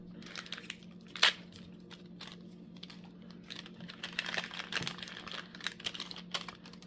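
Scissors or a blade snip into a Shadowverse Flame of Laevatein card pack wrapper, a sharp crinkly cut near 1.3 seconds followed by scattered soft plastic rustles and crackles, close and fairly quiet with no talking.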